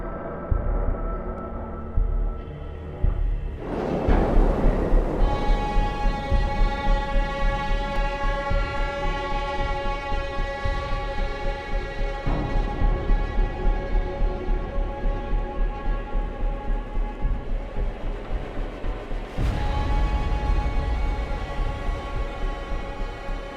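Ominous film score sound design from Dune for spice harvesters landing at nightfall: dark, sustained horn-like drones ring over a rhythmic, pulsing low bass, loud and swelling with occasional heavy hits.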